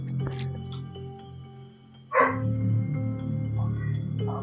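A pet dog gives a few sharp barks and yips as it is let into a home office, with a door noise and a scuffle midway, close by over a steady hum.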